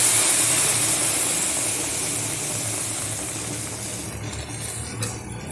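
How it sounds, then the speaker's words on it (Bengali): Thickened milk is poured onto fried vermicelli in a hot pan, giving a loud broad hiss and sizzle up close that slowly fades over the few seconds. "এখন যেহেতু ভাজা হয়ে গেছে সেমাইটা, সেই কারণে ঢেলে দিচ্ছি দুধ"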